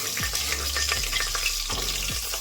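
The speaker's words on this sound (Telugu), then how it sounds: "పచ్చిరొయ్యలు వేసుకుంటున్నాను." Raw prawns frying in ghee and a little oil in a pan for a Muslim-style prawn biryani, giving a steady loud sizzle with a few stirring scrapes and knocks through it.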